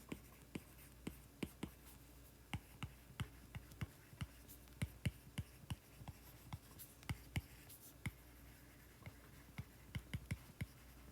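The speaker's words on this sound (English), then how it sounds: "Let me write that." Chalk or marker taps and strokes on a board during a physics lecture on forces and free body diagrams, a rapid irregular run of sharp clicks close by over a quiet room.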